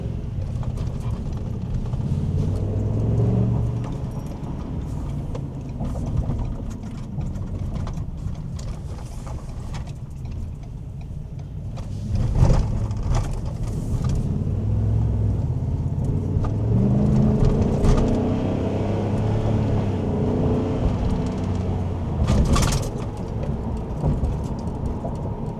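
Ford 7.3-litre Godzilla V8 in a truck while driving, a steady low engine rumble with road noise throughout, swelling slightly in a few spots.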